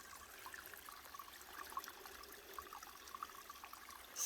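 A small stream of water flows at a spring along the Appalachian Trail near Unicoi Gap, a faint steady trickle and gurgle heard alone.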